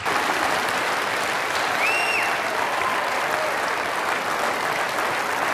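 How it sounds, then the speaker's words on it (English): Loud, sustained applause fills a convention hall as the audience claps for itself, a thick continuous wash of hands with a faint whistle rising above it. "Give yourselves a round of applause."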